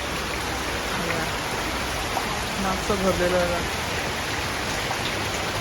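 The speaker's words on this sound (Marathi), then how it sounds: "एकदम जोरात पाऊस चाललाय." Heavy monsoon rain pours down in a steady, dense hiss that fills the whole stretch, with a person speaking briefly underneath it midway.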